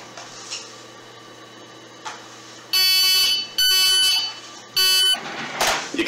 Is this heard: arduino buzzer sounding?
yes